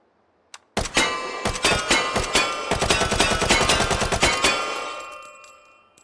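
A 9A91 compact automatic pistol from 1993 fires a rapid full-auto burst after a single early shot, loud sharp cracks in quick succession with metallic ringing, then a fading tail.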